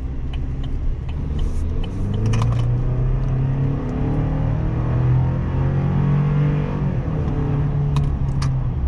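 A 2024 Chevrolet Silverado 1500 full-size pickup accelerates toward 60 mph, heard from inside the cab as a steady engine drone that rises in pitch through the gears, with a brief shift near the end and no talking.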